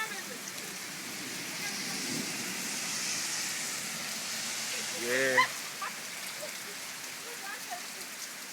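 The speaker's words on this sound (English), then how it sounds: "It's raining so hard, y'all done stop playing." Heavy rain falls as a steady, moderately faint hiss, with a brief honking call near the middle and a short spoken word.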